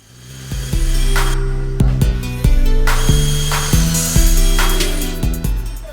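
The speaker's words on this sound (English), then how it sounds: "here's just me drilling a few pocket holes" A power drill whines in repeated short bursts while drilling pocket holes in a workbench, each spin winding up and cutting off, with brief pauses between runs.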